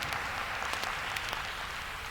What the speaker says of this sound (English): Give a round of applause for Walter Jones